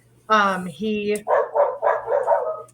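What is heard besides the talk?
dog barking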